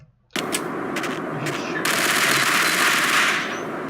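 Sustained automatic gunfire in the Max Payne video game rattles loud and close in a continuous burst. After a brief start it thickens into a heavier, denser barrage that holds steady for several seconds.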